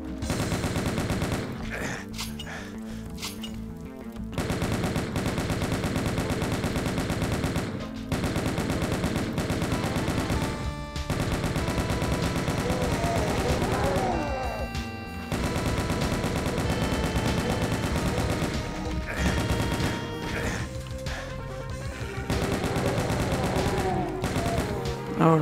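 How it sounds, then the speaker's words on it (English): Chain gun firing in Final Doom, long sustained rapid streams of shots with brief breaks between bursts, mixed with loud in-game music and effects throughout. "I will switch to the chain gun and try to snipe out some of those enemies."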